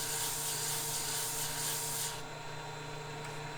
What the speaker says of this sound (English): off to the proverbial sanding stick to clean that surface up